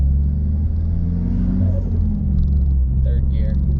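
A manual car's engine rumbles loud and close in the cabin as the driver shifts from second to third gear, a steady low drone that rises slightly with acceleration.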